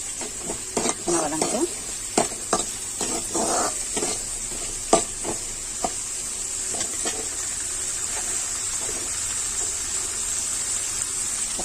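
Onions, green chillies and curry leaves sizzle steadily in a pan for a Tamil dried-fish curry, with irregular stirring clinks and scrapes near the start that thin out into a continuous frying hiss.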